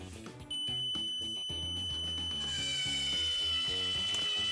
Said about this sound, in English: The alarm is coming from the main device